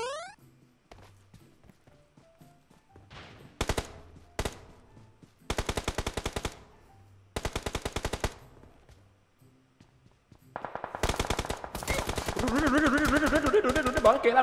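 Machine gun fire in the video game PUBG Mobile, several separate bursts of rapid automatic shots, sharp and fairly close, with quiet gaps and faint game sounds between them.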